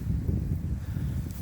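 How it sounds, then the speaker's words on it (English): Wind blowing outdoors beside a river, a steady low rumbling whoosh buffeting the microphone throughout, with no clear voices. "So you might hear a whooshing sound in the background."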